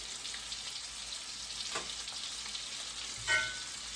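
Parboiled potatoes and sausage fry in a pot with a steady, close sizzle, broken by a couple of brief clatters of stirring and one sharper scrape near the end.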